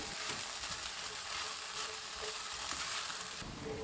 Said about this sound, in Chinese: 炒至白糖融化，继续翻炒。